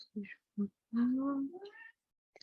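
A house cat gives a series of short chirps followed by a longer rising and falling meow, close and fairly quiet in a calm room.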